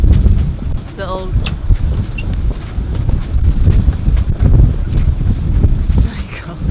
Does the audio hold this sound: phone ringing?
no